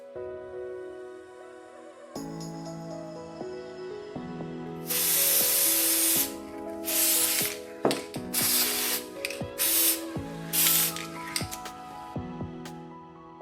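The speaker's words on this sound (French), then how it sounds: "Recouvrons une boule par une bombe de peinture." A can of spray paint coats a stress ball in several loud hissing bursts of varying length, with rattling mechanical clicks between and around them, close up and without speech.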